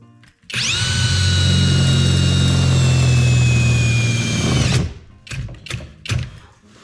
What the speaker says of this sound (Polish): To wiercimy.